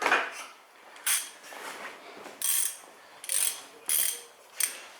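Ratchet with a 13 mm socket working on the front brake caliper bolts of a Mercedes E550, several short bursts of rapid metallic clicking spaced about a second apart, close and clear.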